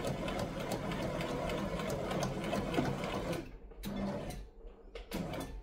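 A sewing machine stitches a seam along a traced line in a steady mechanical run of about three seconds, then stops and starts in a few short bursts.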